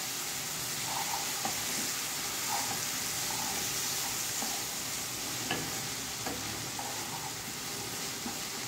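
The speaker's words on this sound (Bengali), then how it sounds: "তারপর ভালোভাবে একটু মশলাটাকে কষিয়ে নিতে হবে।" Spices with turmeric and a little water stirred and fried in a pan, a faint steady sizzle with occasional soft scraping taps of a spoon.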